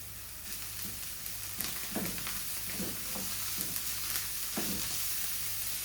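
Fresh coriander sautéing in a pan: a steady sizzle runs throughout, broken by several soft scraping stirs spaced about a second apart, with no voices.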